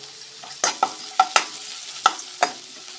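Onions and curry leaves sizzle steadily in a hot pan while a spoon scrapes and stirs in several sharp knocks, close up.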